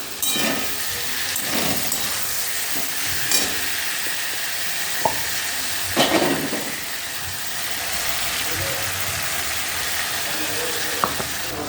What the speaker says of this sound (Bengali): আলু পেঁয়াজটা এখনও ভাজছি